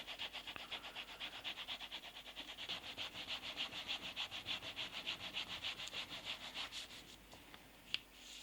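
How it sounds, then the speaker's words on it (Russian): Denim cloth rubbing back and forth across leather during polishing of a leather card wallet, steady rhythmic strokes, faint and close, with no talk. "И заполировываем. Я использую такие джинсовую тряпку."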